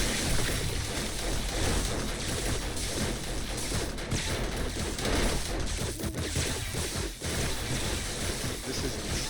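Dense, continuous blasts and crackling debris roar loudly through an explosion in the video game 7 Days to Die, a sustained rumbling barrage with no clear pauses.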